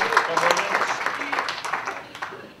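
Audience applause at a comedy show in the Phoenix Theater, a dense wash of clapping and cheering that stays steady, then slowly fades over a few seconds, with no clear talk on top.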